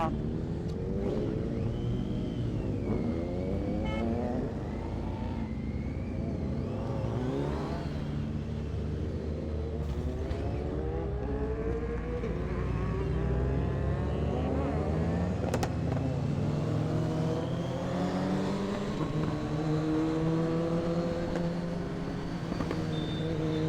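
Superbikes ride along a foggy road, engine drone and rising revs building steadily and continuously for the whole stretch, with riders' voices talking over the motor noise.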